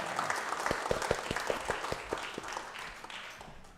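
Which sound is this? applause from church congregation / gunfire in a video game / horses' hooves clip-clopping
applause from church congregation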